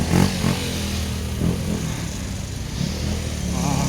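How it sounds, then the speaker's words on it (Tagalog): Motorcycle engines drone and rev through congested Philippine street traffic, with a steady mid-level rumble and a few louder swells as bikes pass close by, and a voice speaking faintly in the background. "Walang daanan kasi puno ng motor."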